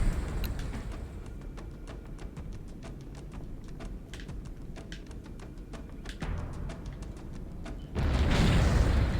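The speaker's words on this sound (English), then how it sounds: "A lot of explosions going on here." Dense Halo: Combat Evolved soundscape on Xbox of rumbling explosions and repeated sharp bursts over a steady roar, building into a loud blast near the end.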